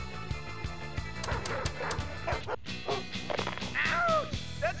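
Short yipping dog barks from a Pinball FX3 video game table, a few quick calls mixed into steady rhythmic table music and flipper knocks, with no talking.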